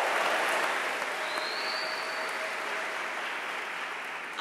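A large audience at a Yale College freshman orientation keynote claps in sustained, dense applause with a faint whoop, loud and even before tapering slightly at the end.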